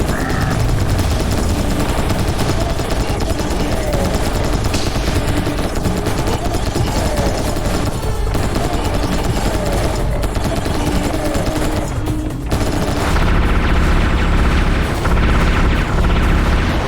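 Rapid bursts of gunfire from shooting enemies in a VR first-person shooter game on a Valve Index headset, dense and continuous, with explosive booms and crashes layered throughout.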